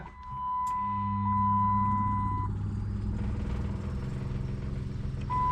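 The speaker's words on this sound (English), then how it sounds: "we're gonna run the pump until we have boost juice to the injector" An electric fuel pump runs on a Procharged 426 Hemi, giving a steady low humming drone that holds throughout, with a separate clear high beep tone sounding on and off above it. No one speaks.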